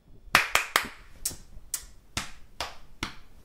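Eight crisp hand claps in an otherwise quiet room, a quick cluster of three followed by slower, evenly spaced single claps fading slightly in strength.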